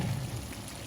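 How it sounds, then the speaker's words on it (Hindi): Cream poured into butter chicken in a pan, a soft, steady liquid pour with low gurgling, close and quiet, lasting about a second with no voices. "अब मैं इसमें डाल रही हूँ क्रीम।"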